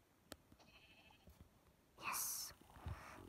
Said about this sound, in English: A sheep. I'm definitely gonna need a sheep.